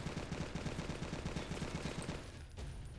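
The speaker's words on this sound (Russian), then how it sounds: "А вот пулемет, у которого там огромное количество патронов, он, конечно, свое дело делает." A machine gun in the video game Left to Survive fires a fast, even stream of rounds for about two seconds, then cuts off, leaving a low background rumble.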